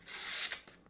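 The small blade of a pliers multitool cuts through something with a short, faint rasping scrape that swells and then trails off with a couple of softer strokes.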